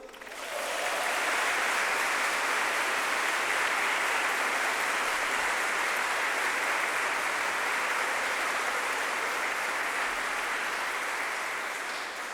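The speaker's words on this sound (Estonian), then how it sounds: "Aplaus." Sustained applause from a congregation at a church service with choral music, steady and dense for the full length, rising quickly at the start and tapering slightly at the end, with no talk over it.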